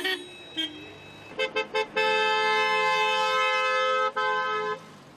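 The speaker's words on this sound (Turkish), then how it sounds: "Direkt kornaya basıyorum." A car horn honks in city traffic, a few short toots followed by one long sustained blast lasting several seconds, loud and close, with no talking.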